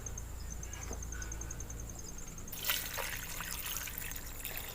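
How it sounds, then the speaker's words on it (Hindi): Water trickles into a cooking pot holding spices and meat for beef shami kabab, a faint, steady pour that gets a little louder and splashier partway through. "और इसके अंदर डाल देते हैं हम पानी।"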